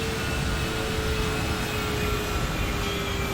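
A PMDG 737-900 jet climbs toward 16,000 feet in the Prepar3D simulator on a Charlotte to Baltimore flight, giving a steady broadband cockpit roar with a faint constant whine and no voices.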